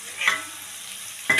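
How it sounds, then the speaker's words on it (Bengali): Cashews, raisins and capsicum stirred in a hot frying pan for fried rice: a steady sizzle with two brief scraping strokes of the spatula at the start and end, close and without talk. "এবার দিয়ে দিচ্ছি কাজু কিশমিশ আর ক্যাপসিকাম। সব দিয়ে অল্প নেড়ে"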